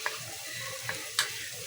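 Spices sizzling and frying in a pan for a chicken gravy, with a few soft stirring scrapes over a steady low hiss; quiet and close, no talking.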